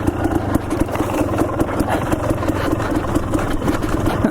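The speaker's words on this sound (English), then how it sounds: "I'll turn off the engine here" A dirt bike engine idles steadily on a mountain trail in Idaho, a close, loud, even putter with rapid regular pulses and no talk.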